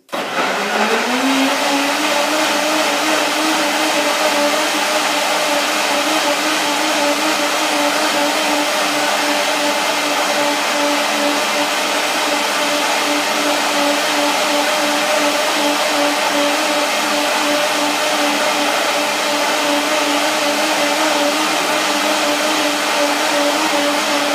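A blender making young coconut milk spins up and runs loudly and steadily, a constant high whirring roar that fills the whole stretch without pause or voices.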